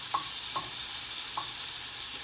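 Mushroom and onion sizzle in a pan for a spinach and bacon salad, a constant bright hiss with a few soft scraping stirs punctuating it, close and even with no talking.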